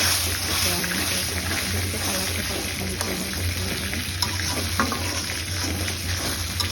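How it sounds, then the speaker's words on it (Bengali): Chicken masala spices being sautéed in a pan, a steady broadband sizzle with occasional stirring scrapes, close and fairly loud, holding evenly throughout under a constant low hum. "ভালো করে আমি মশলাটা কষিয়ে নিচ্ছি।"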